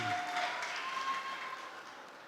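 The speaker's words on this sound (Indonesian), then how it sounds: "Tepuk tangannya dong." Soft, dense applause from an audience at a book-day closing night honouring the second-place band, Jahe, steady and moderately distant, slowly tapering off, with a faint voice briefly audible over it.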